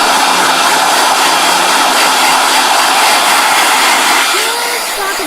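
A blow dryer runs steadily at close range, a loud continuous whooshing roar that holds evenly and eases slightly toward the end.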